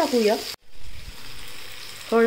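Turmeric sautéed with tomatoes in a pan for tomato pithale gives a steady, moderate frying sizzle, with a brief voice at the start and end.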